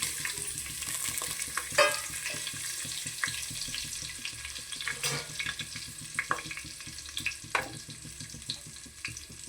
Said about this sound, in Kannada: ಎಣ್ಣೆ ಕಾದಿದೆ ನೋಡಿ. ಆಲ್ ಸ್ಪೈಸಸ್ ಎಲ್ಲ ಹಾಕ್ತಾಯಿದ್ದೀನಿ.